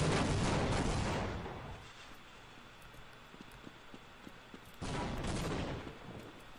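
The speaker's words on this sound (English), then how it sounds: "the wall is supposed to explode" A wall blowing apart in Half-Life, heard as a loud rumbling blast that fades into debris, quiet crackling, then a second booming explosion.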